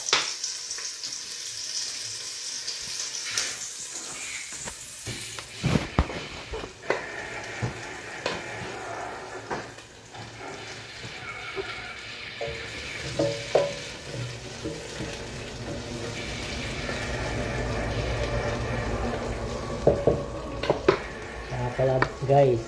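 Onion sizzles and fries in a pan as it is stirred now and then, making scraping and clattering sounds. The cooking is for a simple beef kare-kare, and the sizzle stays moderate and continuous throughout.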